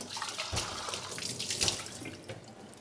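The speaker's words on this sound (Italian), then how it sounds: "sciacquo un attimo le mani" Hands are rinsed under a running kitchen tap, a steady close splashing stream of water with small surges and drips, continuous and fairly loud with no speech.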